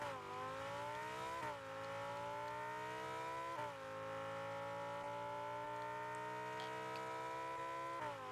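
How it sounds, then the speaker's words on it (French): Lamborghini Huracan engine in the video game Rocket League, a steady loud high-revving drone with brief dips in pitch around gear shifts, continuous throughout with no talk. "Sinon, il y a le bruit de la Lamborghini aussi."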